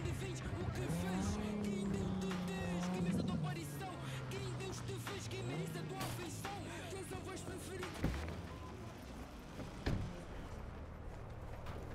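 A car in Cyberpunk 2077 speeds along with a loud engine roar while the handbrake makes the tires squeal and skid in drawn-out, wavering screeches, with a couple of sharp knocks later on.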